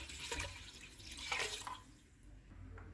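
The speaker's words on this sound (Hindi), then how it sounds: "मैं इसमें 4 कप पानी डाल रही हूँ ताकि बीफ अच्छे से गल जाए।" Water poured into a pressure cooker holding beef, soft splashing and trickling in a few faint bursts over a low background rumble.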